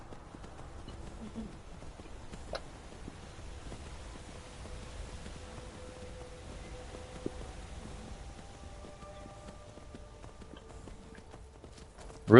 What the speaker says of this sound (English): I'm riding a horse, young lady.